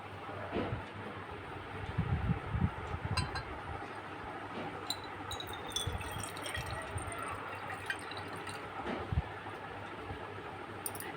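Water poured into a glass volumetric flask in a chemistry lab to dissolve potassium permanganate, a soft steady splashing and trickling that swells briefly near the start, faint and close.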